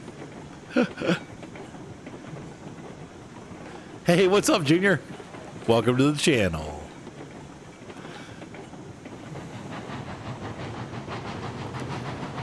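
A moving train in the video game Railroads Online rolls over a bridge, a steady rumble with clickety-clack building toward the end, while someone talks over it in short bursts.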